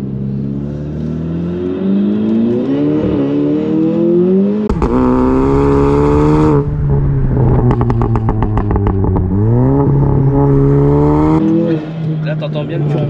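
Turbocharged car fitted with new coilovers accelerating hard on the road, its loud engine rising in pitch through several gear pulls with brief drops at the shifts, with voices in the cabin over it.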